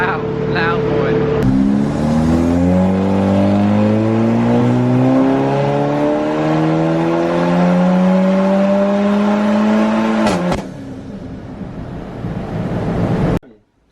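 Remapped Volkswagen Golf R engine revving hard, a loud, rising and falling roar that builds over several seconds before cutting off, with people talking faintly over it.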